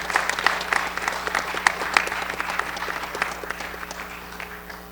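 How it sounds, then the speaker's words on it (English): Applause at a school board meeting greets two young athletic champions, with distinct individual claps standing out over a crowd clapping, strongest at first and gradually fading out toward the end. "Please, if you would, clap for these young men, Joe Friggy and Dean Helstowski."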